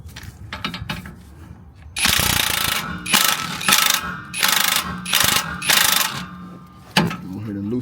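A hand ratchet loosens U-bolts on a 2016 Chevrolet Silverado during a Rough Country 3.5-inch lift install, with several loud, close bursts of rapid clicking separated by short pauses and softer clanks.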